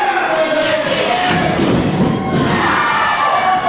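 A wrestling crowd cheers and roars steadily throughout a live match, a dense loud wash of voices with a few thuds from the ring beneath.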